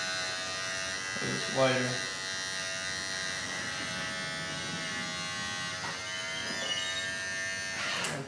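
A barber's electric trimmer buzzes steadily and close throughout a line-up cut, taking very little off the side, with a brief spoken remark over the hum.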